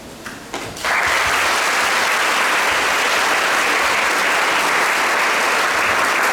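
A church congregation at a Mass installing a new parish priest breaks into loud, sustained applause after a brief moment of low sound, the clapping dense and full throughout.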